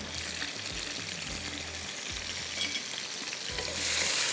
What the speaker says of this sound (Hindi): टमाटर डाल देते हैं, दोबारा से चूल्हा जलेगा।